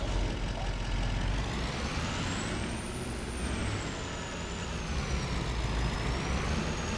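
Cummins truck driving in Farming Simulator 25, a steady low engine drone with broadband road noise and a high whine that slowly rises and falls, continuous and close throughout.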